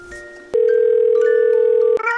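An animated phone's dialing tone: a loud, steady electronic beep holding for over a second after a brief click, then cutting off abruptly before another faint tone begins.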